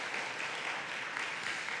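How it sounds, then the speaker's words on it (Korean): A church congregation claps in welcome during a Sunday worship service, a steady wash of many hands filling the room at moderate, even loudness with no voices over it. "인사하실 때 크게 우리 또 환영하는 박수하도록 하겠습니다."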